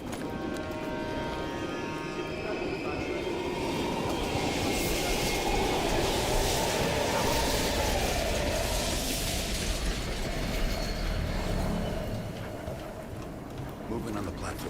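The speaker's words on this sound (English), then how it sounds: "We can use a train to slip past." A train rumbles past an abandoned East German station in Call of Duty Black Ops Cold War, a loud sustained rolling roar with rhythmic clacking that swells and then eases off near the end.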